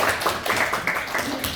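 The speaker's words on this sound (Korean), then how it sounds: "박수 한번 보내주세요, 우리." Scattered audience clapping at a lecture, a few rapid uneven hand claps close by for a brief moment, with faint room noise and a voice underneath.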